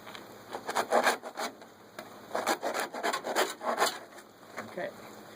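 A knife trims butchered lamb ribs, giving repeated scraping, rasping strokes in uneven bursts, close and moderately loud, with no talk.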